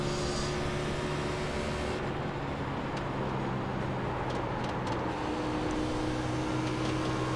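Continuous droning NASCAR race car engine in iRacing at Texas, a dense steady roar held at near-constant level throughout with no speech.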